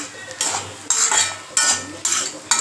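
Fried elephant foot yam tossed with rice flour in a pan, four or five bright scraping stirs with metal spatula clinks, close and loud, with little sizzle beneath.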